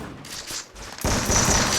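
Shotgun fire in Counter-Strike during a shotgun-only match: a few sharp, close blasts that end in a loud, sustained burst of gunfire.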